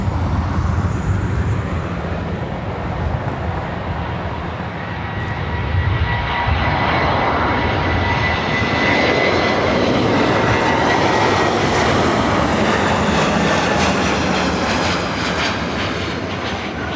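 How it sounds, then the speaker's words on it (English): A 33-year-old ex-Northwest Airbus A320 arriving at LAX from San Francisco, its engines a loud, sustained whine and roar that rises and swells as it passes close overhead, with no voices. "1715 coming in from SFO in an old Northwest A320-33 years of age"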